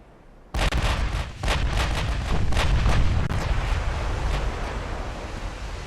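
Battleship and cruiser guns fire in the naval game Ultimate Admiral: Dreadnoughts, a sudden loud salvo followed by a rapid string of booming shots over a continuous roaring rumble.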